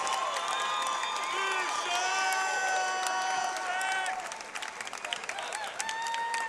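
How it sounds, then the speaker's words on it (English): A mixed-martial-arts event crowd in Kansas City claps and cheers for both fighters after the bout, sustained applause with whoops and shouts under a ringing arena backdrop, loud and continuous throughout. "on your feet, give both of these fighters a huge round of"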